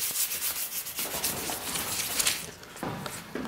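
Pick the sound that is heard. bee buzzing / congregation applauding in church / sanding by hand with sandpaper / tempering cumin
sanding by hand with sandpaper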